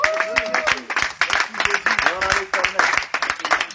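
A church congregation claps rhythmically and cheers in praise of God, with sharp, steady handclaps running throughout under loud sung and shouted voices.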